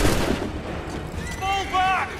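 A musket volley cracks out at the start in Assassin's Creed III, a loud burst followed by raised shouting voices in the battle.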